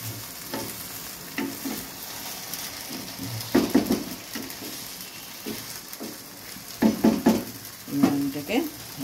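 Fish head, likely hilsa, frying in a pan, with a busy sizzle and frequent scraping stirs and clinks of a utensil against the metal, growing louder and more agitated toward the end.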